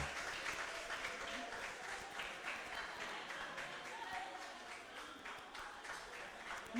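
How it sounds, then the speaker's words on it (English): Crowd applause at a national quarter-final elimination event as a group comes on stage, a continuous mass of clapping at moderate distance that swells and eases slightly, with faint voices mixed in beneath. "Please put your hands together for them."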